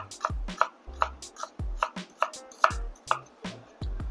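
A kitchen knife slices vegetables such as onion into thin, even slices, each stroke ending in a crisp thud on the cutting board, repeating about ten times in a steady close rhythm without talk.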